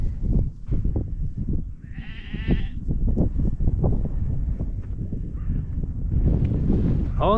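Sheep bleat in open hill pasture in the Peak District, one clear wavering bleat standing out mid-clip amid wind noise and the steady rumble of outdoor ambience.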